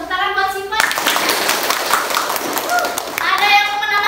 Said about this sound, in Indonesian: 100 tepuk tangan buat Sifat.